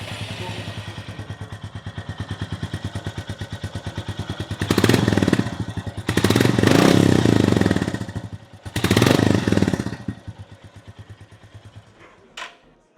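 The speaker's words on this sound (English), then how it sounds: "let me just switch on the bike and give you a sample of what it sounds like" Royal Enfield Goan Classic 350 single-cylinder engine thumping at idle through a new exhaust, then revved hard in three loud bursts before settling and shutting off, close and without speech.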